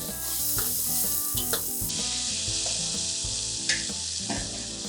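Tomatoes with turmeric, Kashmiri chili powder, coriander powder and salt sizzle and fry loudly in a pan, a constant close crackling hiss with occasional stirring scrapes and no talking.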